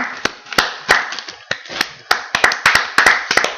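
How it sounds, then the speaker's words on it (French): A small group clapping during a radio-style game, sparse separate claps that start slowly and then come faster and closer together, sounding near and dry with no talking. "On applaudit quand même Adam."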